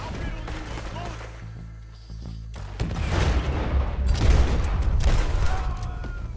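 Gunfire in Red Dead Redemption 2 as outlaws trade shots, a quieter stretch with a low rumble giving way to dense, rolling volleys of booming shots under shouted threats.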